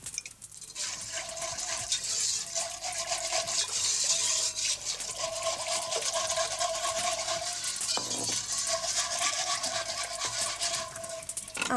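Liquid trickling and splashing steadily into a pot on a wood fire, muscadet wine poured over a butter and flour roux for Breton tripe, a close, continuous watery rush lasting several seconds with a short break near the end.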